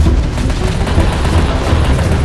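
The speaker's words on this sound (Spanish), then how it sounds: "no dejéis de disparar. Que todos y cada uno centren sus disparos en él" Soldiers fire dense, continuous volleys of gunfire at a zombie in a video game, loud and close, with rapid overlapping shots and no pauses.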